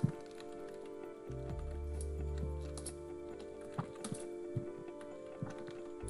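Typing on a computer keyboard during a Microsoft Teams whiteboard demo, a few soft scattered key clicks over a steady low electronic hum, quiet and close, no voices.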